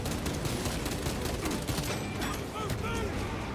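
Dense, continuous gunfire from the Warhammer 40,000 video game Space Marine 2, with rapid overlapping shots and mechanical clatter filling the whole stretch at steady loudness.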